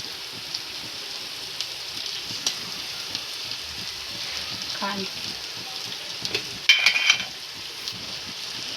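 Spoon stirring dal potli filling in a pan, with ground coriander-cumin, lemon and sugar just mixed in; a steady soft scraping and light sizzle, with a few louder clatters near the end.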